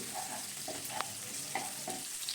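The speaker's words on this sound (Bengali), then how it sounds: "পেঁয়াজটা দেখুন ভাজা ভাজা হয়ে এসেছে" Onions frying in a pan for a cauliflower and potato curry, a faint, soft sizzle with a few light clicks of stirring.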